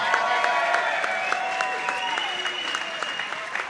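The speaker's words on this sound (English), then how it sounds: "how about a big round of applause for Mr." Audience applause at an orchestra performance in a dance club, a dense, sustained wash of many hands clapping with a few audible whistles rising above it, steady and fairly loud throughout.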